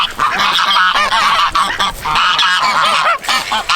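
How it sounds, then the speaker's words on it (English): Ducks and geese honk and quack loudly and close by on a farm, a dense chorus of overlapping calls that continues throughout. "Ducks better clear the way."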